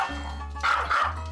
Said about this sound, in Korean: 방금 전보다 더 심하게 짖어대기 시작하는데요